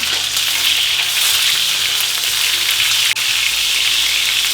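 Duck breast (magret) frying in its own rendered fat in a pan, with no salt or pepper, giving a steady, loud, broadband sizzle that stays even throughout, close up and with no talking.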